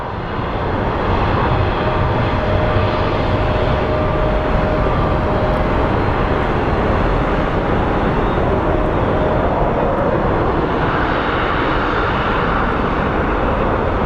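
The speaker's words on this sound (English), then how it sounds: "To me, that looks like a 737-800 series." A Southwest Boeing 737-800 airliner rolls for takeoff at Phoenix Sky Harbor, its engines producing a loud, steady, broad roar that holds constant throughout with a faint tonal whine.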